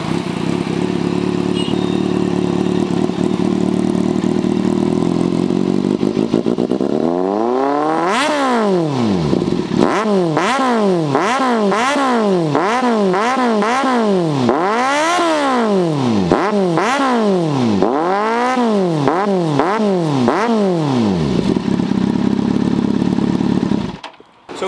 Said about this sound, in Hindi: बैंड पाइप और मफलर चेंज है इसमें, तो अब ज़्यादा देर ना करते हुए जिसके लिए आप ये वीडियो देख रहे हैं आवाज़ सुनाई जाए।